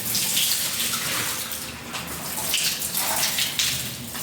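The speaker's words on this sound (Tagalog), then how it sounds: "buhos natin yung tubig" Leftover water poured out of a gallon jug onto stairs during cleaning, producing a loud continuous gushing splash that swells and eases, close and unbroken, with no talking.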